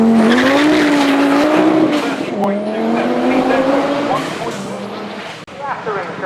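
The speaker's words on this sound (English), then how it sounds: "It's a good run so far from Edwards, but once again a missed gear out of top S could cost time" A race car on a hillclimb run at Shelsley Walsh screams through its gears close by, the engine note rising and dropping with shifts while a commentator talks over it.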